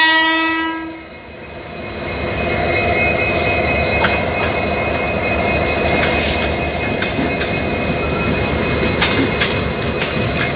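A DEMU passenger train with ICF coaches pulls into a station platform with a long horn blast at the start, then a loud, continuous rumble of wheels with squeals and rhythmic rail clatter as it rolls in.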